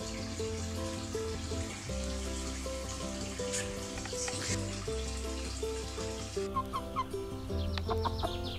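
A young rooster clucks amid other chickens over steady background music, with a watery trickle near the end.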